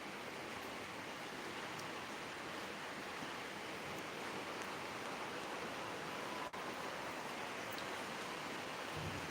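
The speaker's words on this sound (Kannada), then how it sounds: "ಬರ್ಸ ಜೋರುಂಡು ಮುಲ್ಪ ಅಂದಿ ಮುಲ್ಪಲ್ಲ ಜೋರುಂಡು ಬರ್ಸ" Heavy rain pours down steadily under an overcast sky, a dense, even hiss of falling water that holds without pause and stays loud and close throughout.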